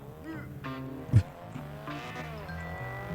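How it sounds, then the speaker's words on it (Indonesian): An F1 race car in GTA's Los Santos gives a short, sharp tire squeal over engine noise, with game music and effects around it. "Ada mobil F1."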